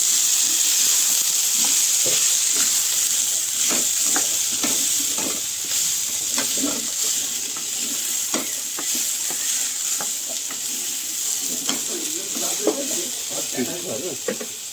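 Ginger paste fries in a pan for a traditional Bengali potato and poppy-seed dish. A steady hiss runs under repeated scraping strokes of a spatula stirring it, and the sizzle eases slightly partway through.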